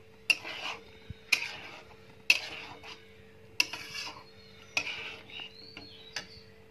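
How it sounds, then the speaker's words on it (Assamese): A utensil stirs pork blood in a cooking pan, giving six sharp metallic clinks at a slow, even pace against a quiet background with a low hum. "এতিয়া ব্লাড দিয়াৰ পিছত অলপ লৰাই দিব লাগিব যাতে গোট নাখায়"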